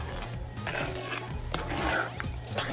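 Cream is whisked in a pan, giving soft irregular scraping and clinking of a whisk against the metal, fairly quiet and close, with no one speaking.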